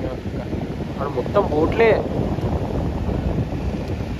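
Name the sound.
light wind blowing at the beach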